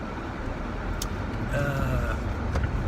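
A front-wheel drive car drives on a road near Gainesville after leaving a rally driving complex, a steady engine and tire rumble heard from inside with faint passing traffic.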